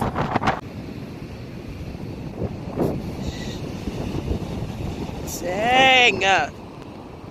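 Ocean surf on an Icelandic shore rushes and breaks under heavy wind buffeting the microphone, with a person exclaiming briefly and a vocal outburst near the end.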